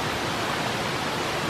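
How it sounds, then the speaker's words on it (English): Sullivan Falls roars in a steady, dense wash of water noise that fills the whole moment at an even, loud level with no pauses or voices. "That's not the wind, that's a waterfall."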